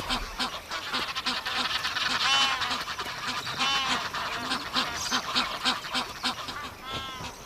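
A flock of Egyptian geese at a Luangwa Valley lagoon honk repeatedly in a noisy chorus, harsh nasal calls overlapping at close range.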